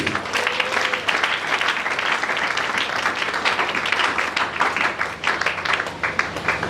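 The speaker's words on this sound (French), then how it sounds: "Est-ce qu'on peut acclamer pour le Seigneur?" Church congregation applauding for the Lord, a sustained dense burst of clapping from many hands, loud and steady throughout, with faint voices mixed in.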